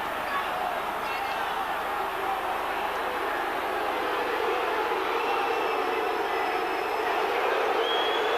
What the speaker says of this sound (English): The crowd's boos signify the reaction here to Crooks staying on the pitch